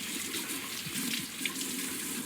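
Water streams steadily from a tap as a fresh tattoo is rinsed clean of soap, a continuous close hissing splash with slight gurgling shifts where hands cup and break the flow.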